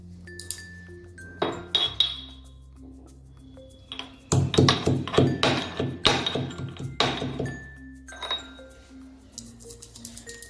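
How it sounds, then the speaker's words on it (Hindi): Green cardamom pods are pounded for carrot milk in a home kitchen, producing a run of close clinking, ringing metallic knocks, sparse at first and then a dense rhythmic burst, alone without voices. "हरी इलायची को कूट करके डालेंगे।"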